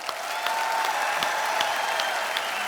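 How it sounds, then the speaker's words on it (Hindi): A studio audience on a Hindi comedy talk show applauds to welcome guests, a steady, fairly loud roar of clapping with a few sharper claps standing out. "मैं चाहूंगा कि जोरदार तालियों से एक बार स्वागत किया जाए"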